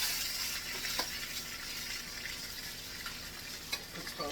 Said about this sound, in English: we're gonna start cooking our beef up in here